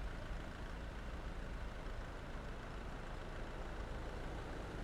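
Truck engine in Euro Truck Simulator 2, a steady, continuous low drone and road rumble on a coastal route by cliffs, faint and even throughout with no talk.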